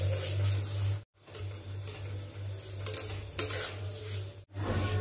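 Flattened rice (chira) being stirred and fried in a pan, with continuous scraping and light sizzling, a steady low hum underneath and two brief silent gaps.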